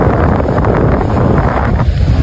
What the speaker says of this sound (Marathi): वारा सुटला एकदम.